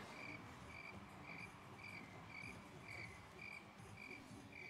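A faint cricket-chirp sound effect plays in the Rocket League video game, quiet, evenly spaced chirps repeating alone with a low background hum.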